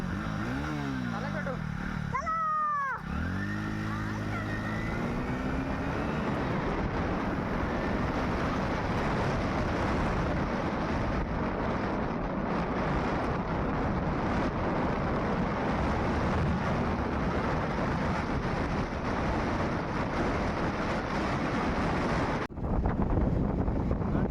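A motorbike rides along with a steady engine drone buried under heavy wind buffeting on the microphone. A brief voice is heard near the start, and the rumble continues until an abrupt drop near the end.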